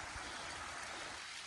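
A mountain stream on the Pacific Crest Trail near Idyllwild runs across a road, giving a steady close rushing babble of water with no gaps and no voices.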